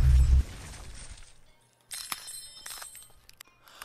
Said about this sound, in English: what did you think was gonna happen when you hit ice with an ice pick?